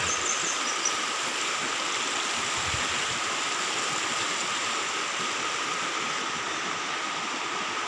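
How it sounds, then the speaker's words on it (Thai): A steady broadband rush of flowing water fills the scene, continuous and fairly loud, like a nearby stream running without pause, in Thung Chang, Nan, Thailand. "ได้ยิน เสียง น้ำคุณพี่ บอกได้ยินเสียงน้ำ"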